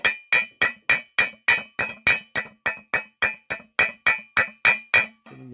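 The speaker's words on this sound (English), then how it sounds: "Try to beat it out with a pick hammer." A Harbor Freight pick hammer chips welding slag in about sixteen sharp, evenly spaced metallic strikes, each ringing briefly, loud and close, with a scrape at the end.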